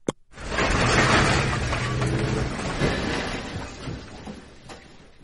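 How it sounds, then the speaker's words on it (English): A garbage truck tailgate sweeper pushing out its load: a sharp clank at the start, then a long loud hydraulic rumble and grinding roar that slowly fades, close and with no one speaking. "Tailgate sweeper, eject."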